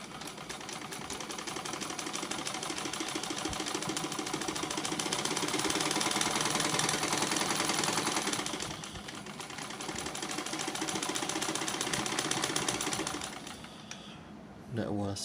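A Singer 224 sewing machine from 1967, run by foot pedal, stitching with a loud, fast, even mechanical whir and clatter that holds steady, eases briefly, then resumes and stops near the end.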